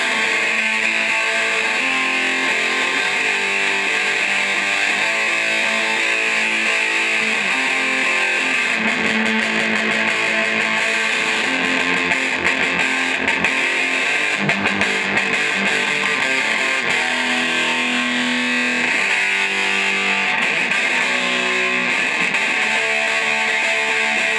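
An electric guitar plays through a Jet City Pico Valve 5-watt tube amp into a Vox cabinet with gain and master near full, giving a continuous, heavily distorted and buzzy tone with sustained chords and no talking.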